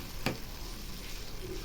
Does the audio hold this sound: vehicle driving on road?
no